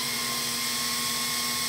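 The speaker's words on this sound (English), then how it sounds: "I'm going to drill this spot in." A power drill bores a hole in a sheet metal plate in a shop, giving a steady high whine with a faint hum, moderately quiet and without speech.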